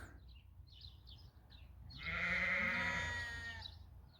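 Sheep bleat on a farm pasture: a long, loud, wavering bleat swells in after a few faint distant calls and holds for over a second before tapering off.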